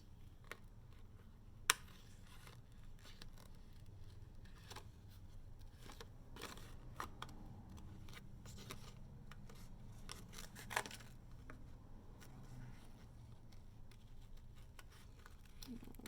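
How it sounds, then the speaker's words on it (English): Quiet, irregular snips and crisp clicks of scissors cutting paper shapes for a craft banner, spread across a low steady background hum with no talking. "You're just cutting around that indentation that's in the paper."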